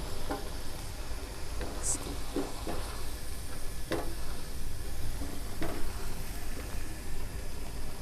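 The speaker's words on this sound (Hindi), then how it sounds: "तेज़ आग पर 5 मिनट आपने भुनाई करनी है।" Beef mince frying in oil over high heat for dhaba-style aloo qeema, a soft steady sizzle with occasional stirring scrapes and clicks, fairly quiet throughout.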